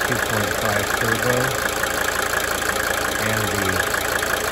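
A 1992 Mercedes-Benz 300D 2.5 turbo diesel idles close by, a steady low engine drone with a rhythmic chugging pulse and faint ticking layered over a constant hiss.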